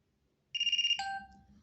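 Alarm ringtone preview playing from a vivo Y51 phone: a bright electronic warble of quick repeated pulses, then a brief chime-like tone that fades, heard alone and close.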